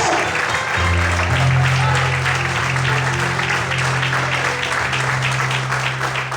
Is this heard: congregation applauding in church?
yes